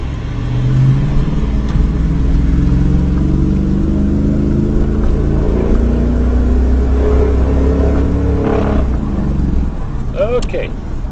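A water-powered truck engine running while driving, a steady loud rumble with rising and falling engine tones throughout, and voices talking over it.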